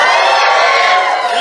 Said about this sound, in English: I got them to cheer.